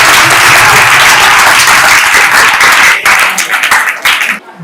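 Sustained, dense applause fills a school hall as an audience claps for a guest at a government high school function, steady and loud before thinning out and fading near the end.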